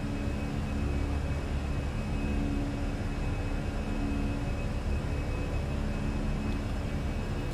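Airbus A320 engines held at climb thrust in Microsoft Flight Simulator, heard as a steady, even roar with broadband rushing noise that stays constant throughout, with no talking.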